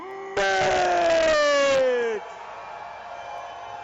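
A crowd at a kickboxing fight event roars and yells for a fighter being introduced, a loud burst of cheering over a strong sustained tonal blare that cuts off abruptly, leaving a quieter murmuring crowd afterward.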